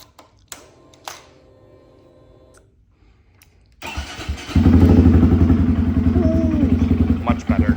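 2025 Honda Grom motorcycle fitted with a Vance and Hines upsweep slip-on exhaust. A few clicks are followed by the engine starting and settling into a loud, close, steady idle that continues to the end.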